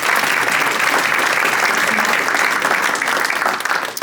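Sustained audience applause filling a conference breakout session at a summit, dense and steady throughout before thinning slightly at the end.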